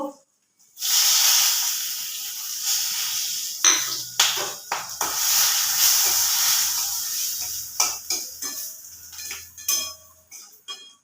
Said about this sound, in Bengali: এবার এই কড়ার তেলের মধ্যে এই যে গোটা গরম মশলা, ফোড়নে যেগুলো রেখেছিলাম, গোটা জিরে, এগুলো সব দিয়ে দেব